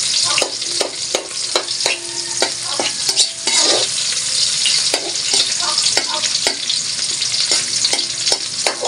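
Street food fries loudly in hot oil, a strong close sizzle with frequent sharp metallic clanks and scraping from a utensil stirring the pan, steady throughout without speech.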